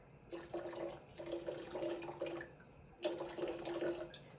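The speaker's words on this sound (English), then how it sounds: "I am gonna put a splash of vinegar." Vinegar pours and splashes into a pot in two bursts separated by a short pause, close by and moderately loud, with a faint hiss beneath.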